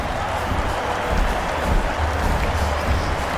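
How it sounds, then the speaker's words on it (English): A large cricket crowd at Sydney Cricket Ground applauds steadily, a broad wash of clapping and cheering that stays even and continuous throughout. "Sydney Cricket Ground will stand and applaud"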